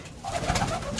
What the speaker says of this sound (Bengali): দেখো এখানে কি কি পায়রা আছে